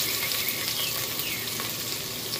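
Onions frying in a pot for chicken sinigang, a steady bright sizzle with faint crackles, close and continuous throughout, with no talking.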